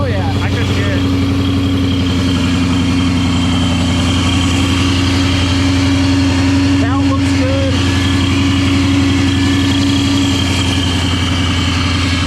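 Supercharged Ford Boss 302 V8 idling after start, a loud steady low rumble with a constant whine above it, close, with people talking over it.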